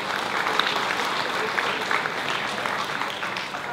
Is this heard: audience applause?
yes